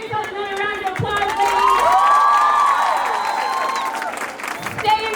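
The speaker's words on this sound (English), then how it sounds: "Give yourself another round of applause" Audience applause mixed with cheering and shouting voices from a crowd including children, sustained and fairly loud across the whole stretch, with shrill vocal whoops sliding over the clapping.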